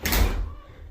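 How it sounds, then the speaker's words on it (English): A door swings shut with a single solid thud, close and fairly loud, its boom fading quickly in a small room being insulated with spray foam. "I'll shut this door."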